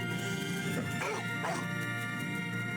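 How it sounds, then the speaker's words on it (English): Creatures in a spaceship video game give out a few dog-like barks and yelps over a steady hum of game sound, loud and close, with no talk. "They bark like dogs"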